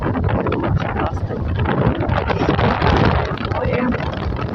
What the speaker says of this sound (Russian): Что ветер, порыв ветра 20 метров.